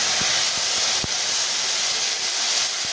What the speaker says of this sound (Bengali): দিয়ে দিচ্ছি বেটে রাখা মশলা,